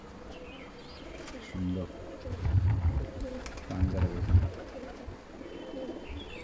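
Racing pigeons coo in a few low throaty bursts, close by, while someone speaks briefly and some soft background noise continues.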